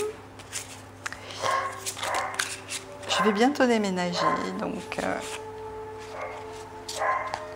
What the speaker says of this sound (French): Je suis désolée pour les aboiements de chiens des voisins.